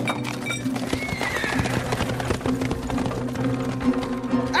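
Horses whinny and neigh while their hooves clop in a busy, continuous rhythm, close and fairly loud, with a little scattered tapping mixed in.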